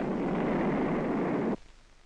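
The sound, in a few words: explosive charges detonated electrically at the bottom of a mine shaft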